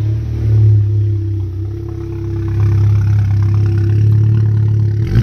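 A Volkswagen MK7 GTI with a newly installed intercooler idles with a low steady rumble, then revs briefly and settles back, heard up close with no talk.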